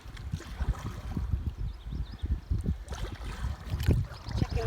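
Creek water rushes and laps around a small boat in the Canadian wilderness, with an irregular low-pitched sloshing and burbling up close, broken by bursts of wind buffeting the microphone.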